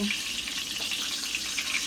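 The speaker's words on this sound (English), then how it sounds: "now we're about to go ahead and start the frying" Pork chops fry in a hot pan with a little oil, a steady hiss filling the air, a constant crackling sizzle without pause.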